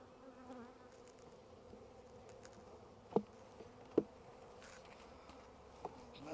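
Honeybees buzzing steadily at an open beehive during a spring hive inspection, a soft continuous drone with a few sharp knocks and clicks from the hive equipment, with no talking.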